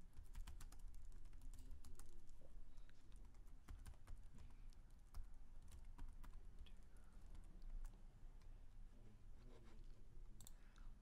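Keys clatter on a computer keyboard in a rapid, uneven run of close clicks, typing settings into a command-line security tool, with no talking.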